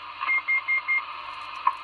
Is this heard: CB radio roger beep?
yes